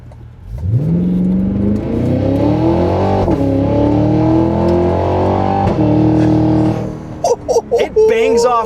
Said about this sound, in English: there's burbles and pops, and they're inconsistent, unpredictable burbles and pops.